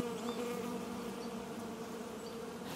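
Hornets buzzing in a steady, continuous drone around their hive, a dense close hum that stays even throughout with no voices.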